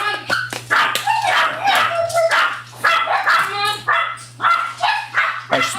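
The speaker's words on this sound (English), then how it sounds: "You guys are going to hear a bunch of the dogs barking." Several dogs, including a small Pomeranian, bark and yip loudly and repeatedly in excited, irregular bursts indoors, close by, with a person talking in between and a steady low electrical hum underneath.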